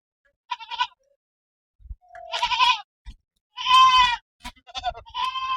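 A goat bleats close by in several loud, separate calls with short silent gaps between them, and faint thumps and handling noises sound in the pauses.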